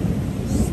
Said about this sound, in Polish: Grzmoty słyszycie